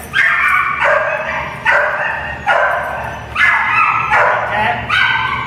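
A dog whimpers and yips in a series of high, drawn-out cries, four or five close bursts in a row as it comes when called.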